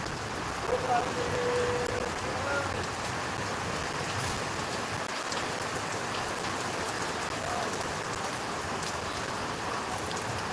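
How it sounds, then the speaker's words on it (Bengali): Steady rain pours down in Rajshahi, a dense even hiss of drops on surfaces with no break, fairly close and continuous throughout. "বৃষ্টি শুরু হয়ে গেছে"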